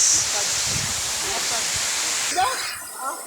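Ginloparan Falls gives a loud, continuous broadband rush of falling water close by, a steady hiss that stays even throughout, with a brief disturbance near the end.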